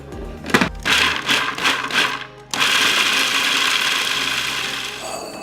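Walnuts and pecans are chopped for a baklava filling: a couple of brief pulses, then a loud, steady whirring grind that runs for several seconds close by, with no talk.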